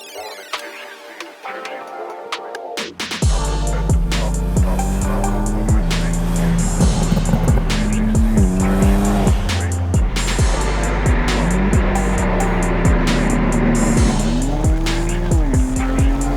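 A powerful car roars into action and drives hard, its engine revving up and down through gear changes, with tires squealing, loud and close.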